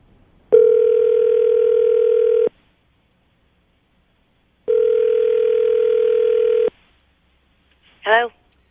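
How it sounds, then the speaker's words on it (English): A landline telephone dial tone sounds in two steady, loud two-second bursts separated by a pause, followed by a short rising chirp as a number is dialed during a radio morning show call. "I'm going to dial the phone number"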